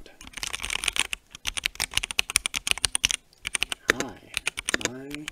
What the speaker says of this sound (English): hopefully that got you some input as to how the keys sound on the brown switches